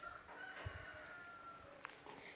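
Outdoor birdsong with a rooster crowing and hens clucking, moderately distant, over a quiet rural background with faint chirps in a Turkish village.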